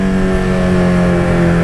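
A motorcycle fitted with an aftermarket exhaust runs loud and close, a steady, throaty engine drone held at revs for a moment, with no voices over it.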